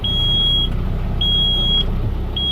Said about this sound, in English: The oil light and buzzer should come on and off within 2 to 5 seconds.